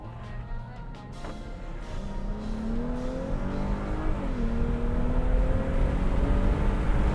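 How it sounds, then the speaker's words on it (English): A 2021 Dodge Charger accelerates from 0 to 60, its engine revving up loudly through rising pitch sweeps with a gear shift midway, close and building over several seconds. "We're about to do a 0 to 60 and time it to see how fast this car can go 0 to 60."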